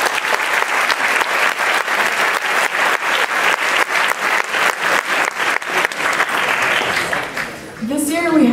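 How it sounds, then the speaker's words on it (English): Sustained audience applause fills a sports awards ceremony hall, dense and steady clapping from a large crowd that dips briefly near the end, with a voice starting to speak over the last second. "can I ask the audience to give a special round of applause"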